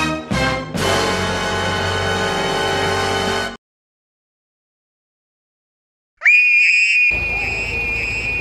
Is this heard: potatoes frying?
no